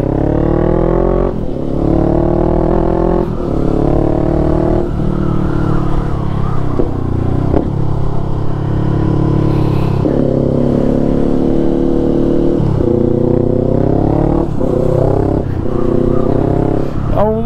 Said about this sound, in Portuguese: Motor bicilíndrico, né? Tem um som típico